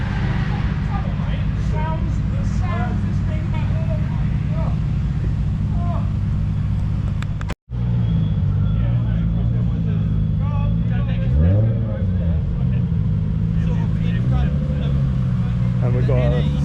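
A Citroen GSA car at a retro car weekender drives past with a continuous engine drone, loud and close, while people talk throughout.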